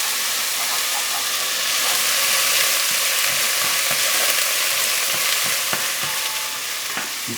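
Onions and garlic fry in a pan with a dense, steady sizzle, while a wooden spatula stirs them now and then with soft, low knocks and scrapes.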